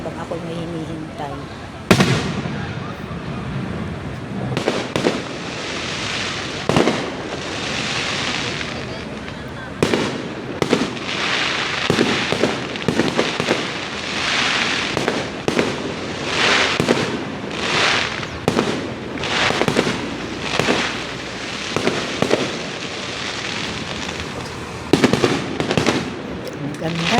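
Fireworks display bursting repeatedly at varying distances, loud booms and crackling pops in an irregular barrage with a steady rumbling wash between them, and a voice speaking at times.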